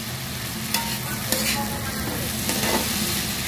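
Rice frying in a pan with chopped garlic, onion and ginger, a steady close sizzle broken by a few sharp scrapes of stirring, with no talk.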